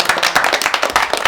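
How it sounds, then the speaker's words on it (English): A short round of applause from a small group of people, a quick burst of dense, close hand claps lasting about a second. "round of applause, man."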